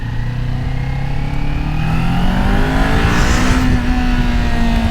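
Kawasaki Ninja 400 motorcycle engine on the road, loud and close, its pitch climbing steadily as it accelerates through the ride with wind rush underneath.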